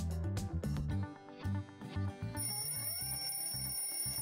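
An alarm clock shut inside a box made of ice rings on and on, a bright repeating chime with a steady pulsing rhythm that sounds close and somewhat boxed in.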